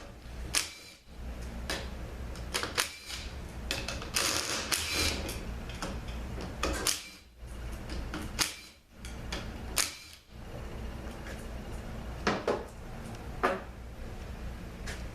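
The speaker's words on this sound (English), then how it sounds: "Alright, so let's open up this pump." Clicks, taps and clatters of metal parts come from a TF6 transmission pump being opened up during a teardown on a Dodge van. The sounds are close and irregular, with short pauses between them.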